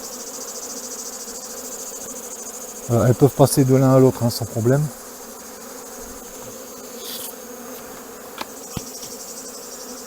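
A hive of honeybees hums continuously around a syrup feeder, the close buzzing steady throughout. Someone speaks French briefly in the middle, and a few faint knocks follow.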